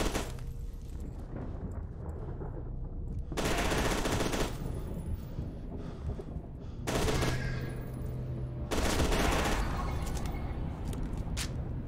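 Rapid automatic gunfire from the F.E.A.R. 2 shooter game comes in three loud, dense bursts, each lasting one to three seconds, separated by quieter stretches of low ambient noise.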